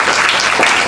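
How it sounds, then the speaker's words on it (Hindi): A second-long burst of dense, loud audience applause at a youth awareness gathering, steady clapping with no break and no clear voice over it. "एक बार जोरदार तालियां आप लोग अपने लिए बजा लीजिएगा"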